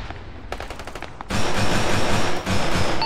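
Gunfire in the video game Arma 3: a few sharp single shots, then sustained rapid automatic gunfire bursts, loud and close, like a firefight.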